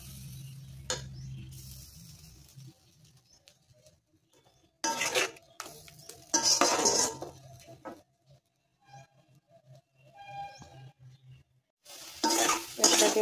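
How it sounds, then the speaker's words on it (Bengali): Peanut paste being stirred in a pan for chutney, a spoon scraping and sloshing in bursts with soft sizzling in between, fairly close and moderately loud, with pauses of near quiet. "পেস্টটা দিয়ে ভালো করে একটু নেড়ে চেড়ে"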